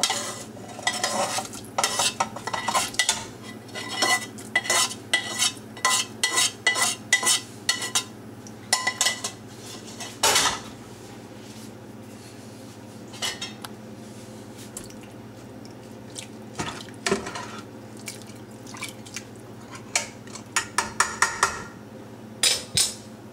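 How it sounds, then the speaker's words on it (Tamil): Mixed vegetables going into a pot of water for vegetable biryani, with clustered clatters, wet squelches and spoon-on-pot scrapes in bursts, close, then a quieter stretch with a low steady hum beneath, no talk. "Let me add all the vegetables."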